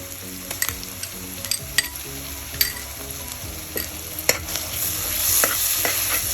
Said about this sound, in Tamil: இஞ்சி பூண்டு சேர்த்ததுமே கொஞ்சம் நேரம் கைவிடாமல் வதக்குங்க